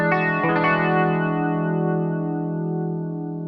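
A dominant seventh chord with an added natural ninth rings out on an effects-laden instrument, its strum smeared by chorus and distortion, then sustains and slowly fades, close and full, with nobody speaking.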